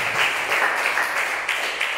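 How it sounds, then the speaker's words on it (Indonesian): A church congregation claps together during a service, producing a steady, fairly close patter of many hands with slight surges in intensity across the brief stretch. "Tepuk tangan untuk Tuhan Yesus."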